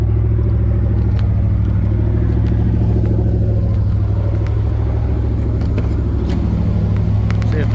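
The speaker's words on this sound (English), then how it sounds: "Truck's running." A Chevrolet plow truck's engine idles up close, a steady loud low rumble with a faint irregular clatter running through it.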